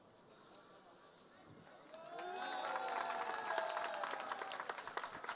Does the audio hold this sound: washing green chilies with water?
no